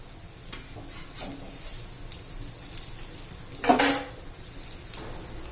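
Eggplant slices coated with sesame fry gently in a pan over a low gas flame, with a quiet continuous sizzle, a few light scrapes, and a brief louder utensil clatter near the end.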